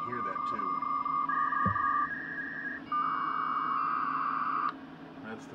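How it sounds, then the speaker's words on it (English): A 2400 baud modem attached to a TI-99/4A computer connects to a BBS with a rapid sequence of steady handshake tones that shift in pitch, then ends in a burst of harsh data noise. It is loud and close. "That's the sound of 2400 baud."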